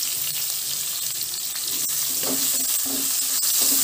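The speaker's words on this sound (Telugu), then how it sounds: "ఇప్పుడు మనము కట్ చేసి పెట్టుకున్న ఉల్లిపాయ ముక్కలు పచ్చిమిరపకాయ ముక్కలు కరివేపాకు వేసుకోవాలండి" Chopped onion, green chili and curry leaves dropped into hot oil, crackling and sizzling steadily with occasional sharp pops and light stirring, close up and without voices.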